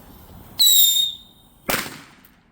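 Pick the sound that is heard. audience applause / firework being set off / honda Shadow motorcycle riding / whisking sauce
firework being set off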